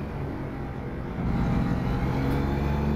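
Engine of a DAF 105 truck in a truck-simulator game, a steady low diesel drone that swells louder about halfway through, with no talk over it.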